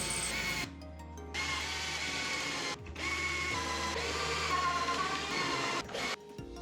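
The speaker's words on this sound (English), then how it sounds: "I went out into the garage and drilled all of the pocket holes" A drill bores pocket holes in wood in a garage workshop, with several whining bursts of drilling separated by short pauses and a low motor hum running underneath.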